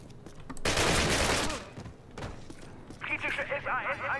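Rapid gunfire bursts loudly in a Call of Duty British campaign mission at the Eder dam, a dense volley followed by scattered shots, with a voice speaking over the later part.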